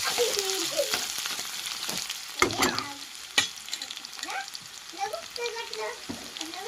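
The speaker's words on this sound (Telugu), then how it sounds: "తాలిపింజలు అయితే వేగినాయి కదా, ఉల్లిపాయలు కూడా వేసేస్తున్నాను" Onions hit a pan with already fried tali pinjalu, giving a close, uneven sizzle with stirring scrapes and a few sharp knocks of a utensil against the pan.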